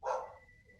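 Space Dog, a dog, gives a single short bark with a quick tail that fades away, heard alone.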